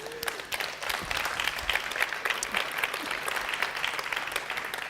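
A room full of people claps warmly and continuously, a dense patter of applause at moderate distance.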